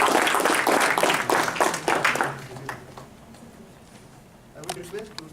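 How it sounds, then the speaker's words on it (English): Audience applause at a Toastmasters meeting: a burst of many hands clapping that fades out after about two seconds, followed by a quiet room and a few faint sounds near the end. "Huge round of applause, Toastmaster Amrita Sood."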